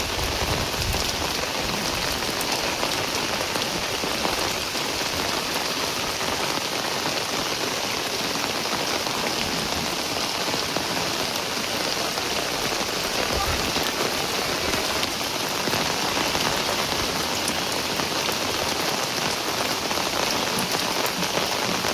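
Steady, dense rain pours onto hard surfaces and a vehicle outdoors in a village, a continuous hiss and patter without pause for the whole stretch.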